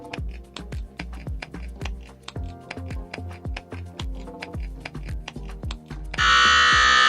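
Quiz show buzzer pressed during a Bible quiz semi-final, a loud steady electronic buzz starting near the end, after a stretch of rapid percussive clicks and taps.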